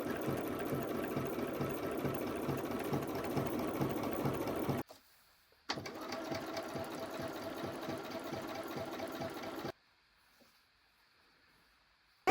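Sewing machine running steadily while joining red quilt squares onto fabric strips, a loud continuous mechanical whir in two long bursts separated by brief pauses, with no talking.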